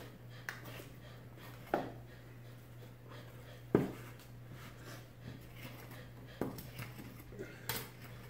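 Knife scoring raw beef ribs on a cutting board, heard as a few sparse taps and scrapes against a faint steady background hum.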